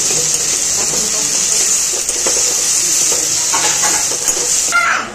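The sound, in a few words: onions frying in a pan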